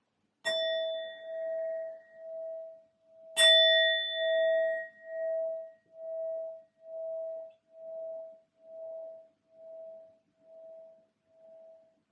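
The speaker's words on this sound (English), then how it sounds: "I will be using my sound bowl to clear and set the energy." A sound bowl rung twice, two bright strikes a few seconds apart, each leaving a long, clear, pulsing ring that slowly fades away, close and alone in a quiet room.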